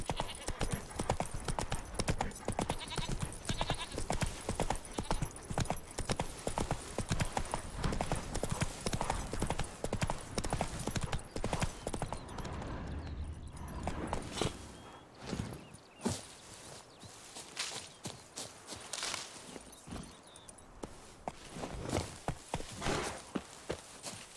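Hooves of Roach, a video game horse, clip-clop in a steady walking rhythm, close and fairly loud, with faint ambient sound and a soft voice briefly audible.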